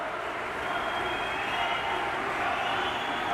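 Crowd at a professional padel tournament roaring steadily in a large arena as a player rouses them, a dense continuous wash of cheering and clapping heard from a distance.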